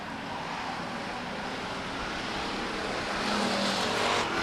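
Stock cars roaring around the oval at Stockton 99 Speedway during a short-track race, a continuous broadband engine wash that swells louder toward the end as the pack passes near, with no talk.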